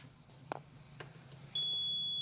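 A multimeter beeps on a continuity test while wiring a temporary double socket, a steady high electronic tone that starts abruptly after a few faint taps and holds to the end, close and clear.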